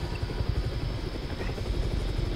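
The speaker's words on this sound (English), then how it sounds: "Helicopter." A helicopter rotor thumps steadily in the Chernobyl-set game Chernobylite, a dense continuous engine drone with rapid low chopping, close and loud with no other sounds.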